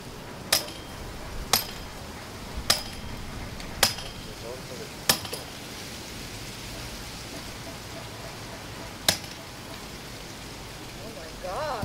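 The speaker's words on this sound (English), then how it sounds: "I'm gonna get a brick to use as a hammer." Sharp, isolated knocks of a brick used as a hammer, about seven blows at uneven intervals, fairly close, with quiet ambient noise between them, at a sandbar in Fort Lauderdale.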